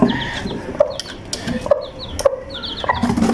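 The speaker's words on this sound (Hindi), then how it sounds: "कितने प्यारे चूज़े निकले हैं" Japanese Shamo hen and her newly hatched chicks in a rooftop setup, cheeping in a high twittering stream with a few soft, low clucks spaced through it, close and fairly clear.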